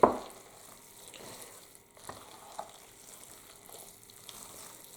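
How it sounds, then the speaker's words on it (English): Gizzards being stirred into a Southern cornbread dressing, quiet moist scraping and soft squelching in a pan after an opening clunk, faint and close with no voices. "now we're going to stir our gizzards in"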